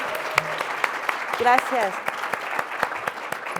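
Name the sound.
book presentation audience applauding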